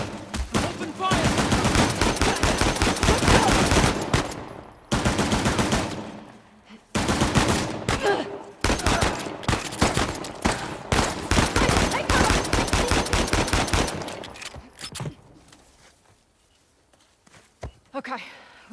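Heavy gunfire in an ambush in Uncharted: The Lost Legacy, with dense sustained bursts of rapid shots in long volleys broken by short pauses, tapering off at the end.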